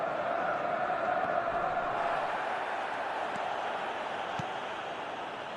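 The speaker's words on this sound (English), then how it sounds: "Crowd appreciates good football all round there." Steady crowd noise from a football match in eFootball PES 2022, a broad wash of applause and murmur from a stadium audience holding level throughout, with no talk over it.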